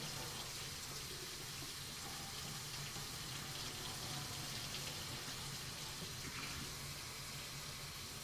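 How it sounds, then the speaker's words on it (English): Hot water runs steadily from a kitchen tap, pouring in a constant broadband rush for several seconds without pause, fairly close and with no speech. "And then I use hot water straight from the tap."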